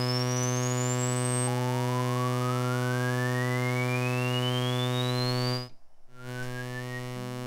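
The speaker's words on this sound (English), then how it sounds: "Now let's listen to the 1047 at full resonance." An AM1047 filter at full resonance on a 2500-series modular synth gives a pure, whistling sine-like tone that sweeps upward in long rising glides over a constant harmonic drone, which cuts out briefly near the end and then resumes.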